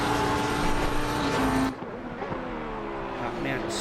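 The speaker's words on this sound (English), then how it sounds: "Let's see if the Bentley can move past the Porsche." Bentley and Porsche GT3 race cars roar around Bathurst in a video game, engines loud and close before cutting to a quieter stretch with revving passes, while a commentator talks over them.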